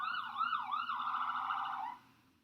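An emergency vehicle siren wails outside, a close, clear rising and falling tone that sweeps a few times, then holds and fades out near the end.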